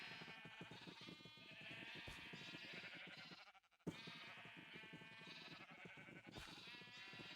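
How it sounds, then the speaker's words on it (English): Sheep bleating in a Minecraft multiplayer server, several overlapping bleats close by and fairly loud, continuing with a brief drop near the middle, no talking over them. "I think we may have too many sheep."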